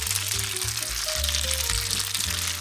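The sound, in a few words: mixing Parmesan cheese into pasta in a pan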